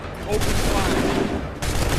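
Soldiers open fire together in Assassin's Creed 3, a dense, loud crackling volley of musket shots that rolls on for a couple of seconds, then breaks off and starts again as a second burst.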